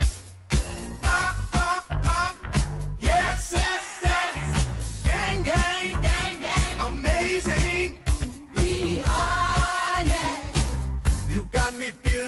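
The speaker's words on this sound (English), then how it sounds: "it starts to sound like this very kind of like heavy 70s funk song" An AI-generated song in the style of heavy 1970s funk plays, loud and dense, with punchy drums and bass, choppy rhythm and vocal-like melodic lines.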